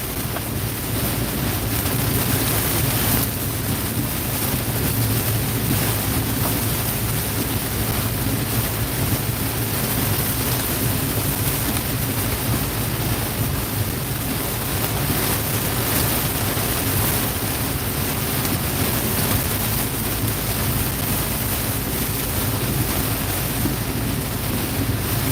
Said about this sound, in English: Got pea-sized hail coming down here, east side of Loyalsock, right along 180.